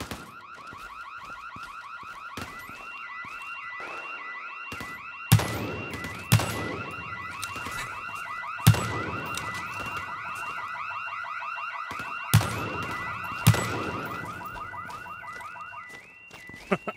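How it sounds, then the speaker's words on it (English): Several car alarms blare in the World War 3 video game, a continuous looping electronic warble that keeps going throughout, broken by loud gunshot bursts at intervals, with no speech. "We set off all the alarms."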